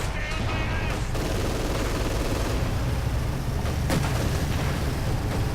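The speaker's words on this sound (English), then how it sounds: "High explosive shells of doom." High-explosive shells fire and burst in a Company of Heroes 2 battle, a dense, loud, continuous rumble of artillery and gunfire with sharp cracks rising out of the din.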